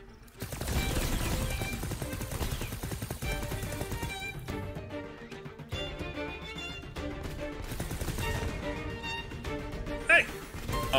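Rapid shooting in The Knight Witch, dense bursts of game fire layered over a busy music score, steady and loud throughout.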